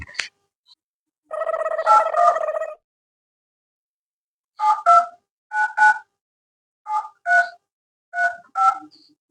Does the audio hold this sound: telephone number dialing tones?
yes